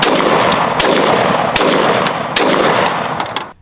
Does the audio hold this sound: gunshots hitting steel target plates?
yes